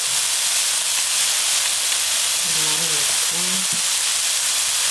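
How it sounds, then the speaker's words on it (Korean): Garlic sizzling in hot oil while stir-frying seaweed stems, a loud, steady, close hiss that holds throughout, with a brief low voice murmuring partway through. "기름내가 다 날라갔으면 이제 마늘을 넣고"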